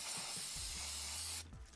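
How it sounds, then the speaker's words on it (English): Clear coat aerosol spray hissing onto trading cards in one continuous loud burst lasting over a second, then cutting off sharply to quiet. "Then we're just gonna go spray."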